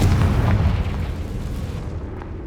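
A Confringo blasting spell explodes in the Hogwarts Legacy video game, a loud deep boom that rumbles and slowly fades over a couple of seconds.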